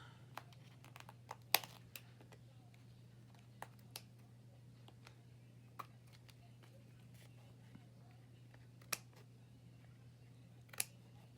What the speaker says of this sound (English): Now I need some better scissors because those scissors are kind of dull.